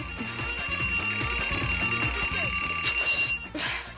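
A loud, continuous electronic alarm clock beeping in a rapid repeating pattern, with a brief rush of noise near the end.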